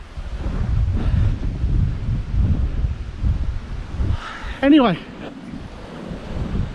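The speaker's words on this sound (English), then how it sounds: "windy day." Blustery wind on a stormy day roars and buffets the microphone in continuous low gusts, with a brief spoken word near the end.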